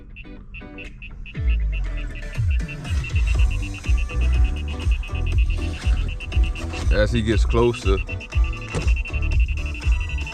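Radar detector in an Audi A8L Sport 4.0T beeps steadily in a high repeating tone as a police car approaches, running through most of the clip under road noise and someone talking.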